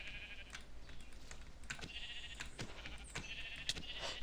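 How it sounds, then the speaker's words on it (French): Sheep bleating in the Minecraft video game, several short nasal bleats scattered across the stretch over a steady background hum, moderately loud and with no talking. "Pourquoi il y a des moutons?"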